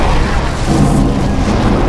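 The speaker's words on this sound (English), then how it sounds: "Four more blasts tear the rear of the ship apart." A series of heavy, rumbling explosions tears through the rear of an aircraft carrier during a fire, a continuous loud, dense roar of booms with no clear gaps between blasts.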